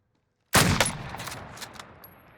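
Gunfire in the video game Call of Duty Warzone, an abrupt loud burst of shots after silence, followed by rattling fire and echoing tails that fade.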